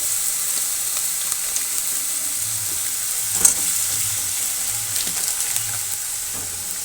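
Spice paste of ground ginger, onion, tomato and green chili with cumin powder and a little chili powder frying in a pan, a steady close sizzle with faint scraping stirs and one brief clink, no talking.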